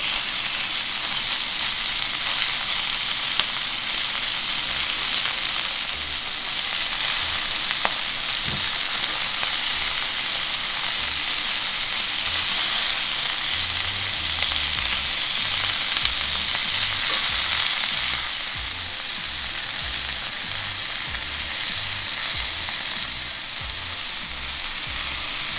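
Steak bites sear in olive oil in a hot pan over high heat, a loud continuous sizzle and crackle with occasional scrapes and knocks from stirring, no talking.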